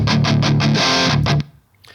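Distorted electric guitar through Two Notes Wall of Sound cabinet simulation, a loud, fuller chugging rhythm of repeated chords that stops suddenly and leaves a brief quiet tail.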